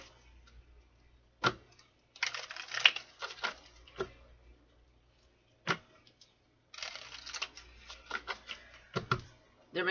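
Tarot cards being shuffled and handled, giving bursts of crisp papery riffling and flicking with short snaps between them, close by and moderately loud over a low steady hum.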